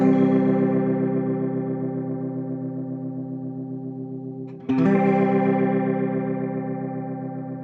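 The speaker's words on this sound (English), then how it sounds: "And now let's hear the plastic chorus pedal." A plastic-bodied chorus guitar pedal colors a held guitar chord with heavy warbling wobble; the chord rings and fades, then a second strum rings out again, close and alone, with no voice.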